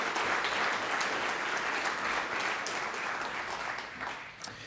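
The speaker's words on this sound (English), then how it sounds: "just to give John a massive round of applause" An audience at the iHemp Summit 2018 gives a loud, dense round of applause that holds steady before tapering off near the end.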